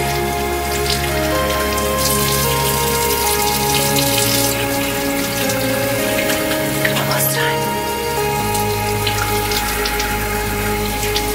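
Tap water runs steadily while a face is rinsed at a sink during a morning facial routine, a continuous splashing stream heard close up beneath background music.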